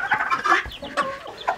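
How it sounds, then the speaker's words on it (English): A mother hen with chicks clucks close by, a quick series of loud, rhythmic clucks and short throaty calls with no talking. "She is such a good little chicken."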